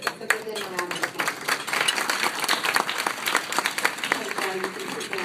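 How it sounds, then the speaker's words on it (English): An audience at a board officer installation meeting bursts into sustained, moderately distant applause, dense clapping that holds steady for several seconds with murmuring voices mixed in. "So give them a round of applause."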